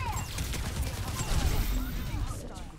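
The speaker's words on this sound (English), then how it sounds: "I'm shooting the fuck out of him too" Soldier 76's rapid gunfire in the video game Overwatch 2, a dense close burst of shots and impacts that runs continuously, partly under a player's talk.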